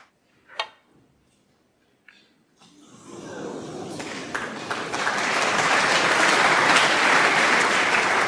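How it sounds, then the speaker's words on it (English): Snooker crowd at the 2016 Masters breaking into applause: a few isolated claps and taps in a quiet hall swell into sustained, full clapping that builds and holds. "great buzz around the crowd again after those 2 frames from Ronnie O'Sullivan."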